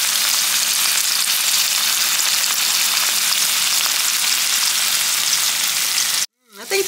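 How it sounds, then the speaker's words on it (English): Ribeye steak searing in a hot pan, a loud continuous sizzling crackle held close for several seconds before cutting off abruptly near the end. "I want them a little bit more seared"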